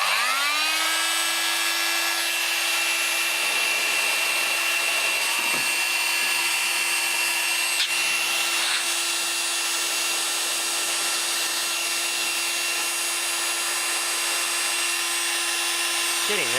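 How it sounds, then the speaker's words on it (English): A heat gun blows hot air around a hose while plumbing a compressor bank, a steady whining drone with a constant pitch that runs unbroken from start to finish. "I can actually make it possible if I use a heat gun."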